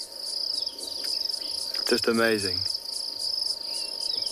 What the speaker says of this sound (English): it rubs vigorously backwards and forwards, and it makes that buzzing sound.